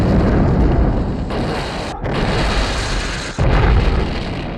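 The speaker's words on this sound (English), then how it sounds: "you've also got some really great explosions in this film" Huge explosions from a James Bond film boom and roar in dense, rumbling bursts, with abrupt cuts between blasts and a loud, sustained wall of noise throughout.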